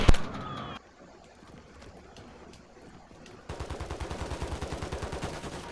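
Video game gunfire bursts from a live-streamed shooter match: a sharp shot up front, then steady rapid automatic fire in a rhythmic, loud string of reports near the end.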